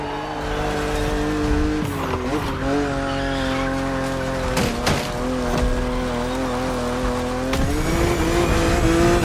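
A BMW Z4 E89 coupe cabriolet revs and drives hard in The Crew Motorfest, its steady engine drone climbing and falling with gear changes while tires squeal and skid in bursts, loud and close throughout.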